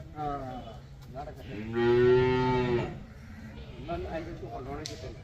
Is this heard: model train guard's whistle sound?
no